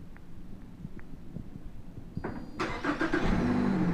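A Ford Fusion engine starts by remote start, cranking briefly and catching into a steady running rumble that grows louder and fuller toward the end, alone with no talk.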